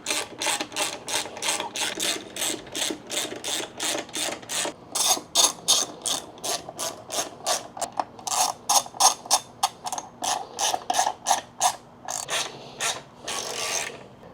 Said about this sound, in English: Go ahead and get all these screws tightened up.